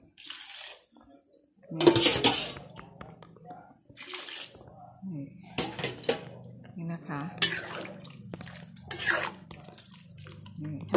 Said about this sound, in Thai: เติมน้ำไปอีกนิดเดียว